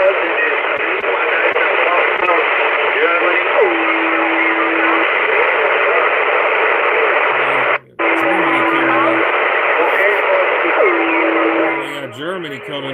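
Noisy 11-meter CB radio skip transmission from Germany, a steady hiss of static with a faint distorted voice buried in it, brief steady tones and warbling heterodyne squeals, one sharp dropout midway.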